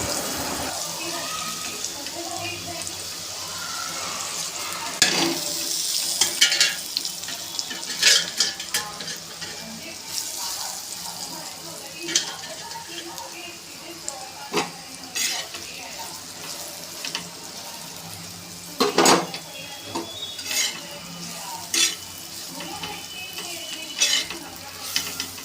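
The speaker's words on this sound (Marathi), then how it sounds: "ते आपलं छान असं तव्यामध्ये मी भाजून घेणार आहे, म्हणजे फ्राय करणार आहे" A mixture frying on a tava griddle pan with a soft sizzle, marked by scattered clinks and scrapes of stirring and a few louder knocks, with running water nearby.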